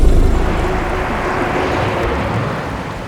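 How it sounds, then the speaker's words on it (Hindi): Heavy rain pours down as a loud, dense, unbroken roar that holds steady throughout. "बारिश बहुत तेज हो रही है।"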